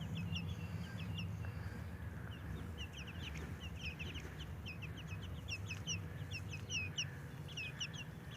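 Backyard chickens cluck and chirp continuously outside, many short overlapping calls at moderate distance over a low ambient rumble.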